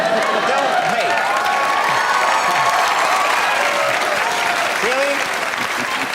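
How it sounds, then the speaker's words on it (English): A studio audience at a talk show claps and cheers in a dense, sustained roar of applause, with brief spoken exclamations over it. "You know you have a good crowd when they're cheering that we know the day of the week."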